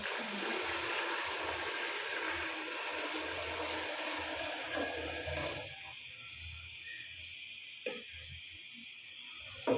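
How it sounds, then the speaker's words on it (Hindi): Water is poured steadily into a pot of rice for biryani for several seconds, a rushing splash that stops abruptly, followed by a quieter hiss and a small clink. "यहाँ पे हम इसमें चावलों के हिसाब से पानी डाल देंगे।"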